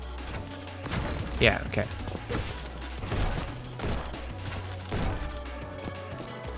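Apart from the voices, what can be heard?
gunshots in video game Neon White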